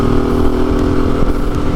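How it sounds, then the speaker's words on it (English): A Honda Africa Twin XRV750 adventure motorcycle engine runs in a steady, smooth, continuous drone with a loud, even low rumble and no talking over it. "The engine is so smooth."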